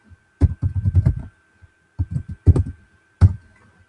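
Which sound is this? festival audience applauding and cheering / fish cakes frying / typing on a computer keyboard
typing on a computer keyboard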